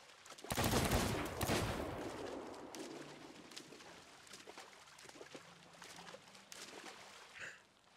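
Gunfire in the pirate video game Sea of Thieves starts with a loud burst of rapid shots, then thins into scattered cracks over a rough background roar, with a short louder swell near the end.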